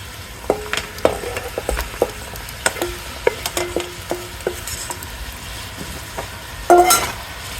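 Garlic, pepper, onion and chilli frying with chorizo in a pan over a campfire, a soft sizzle broken by scattered clinks and scrapes of stirring, with a louder clatter near the end.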